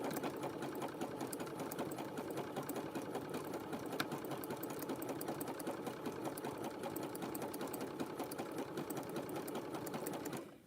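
A sewing machine stitches a fabric pouch, running in an even, continuous mechanical whir with rapid needle ticks from start to finish, close and moderately loud.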